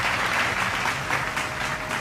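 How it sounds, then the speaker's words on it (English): Audience applause for speakers at a semi-final debate on minimum wage, steady dense clapping filling the whole stretch at an even level with no voices. "A round of applause for yourselves, please, guys."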